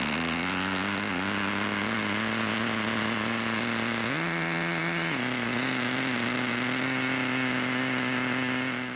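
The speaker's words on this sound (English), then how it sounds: "It sounds a bit odd compared to most nitros." A small nitro engine in a Kyosho Pathfinder RC car runs continuously with a buzzy, raspy, slightly odd drone, its revs rising briefly midway then settling back to a steady pitch.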